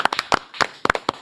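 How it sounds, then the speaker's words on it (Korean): A small audience claps briefly to welcome a guest onto a Korean talk show, roughly ten sharp, uneven claps over about a second, close and fairly loud with no talk. "박선원 의원 박수로 맞이합니다."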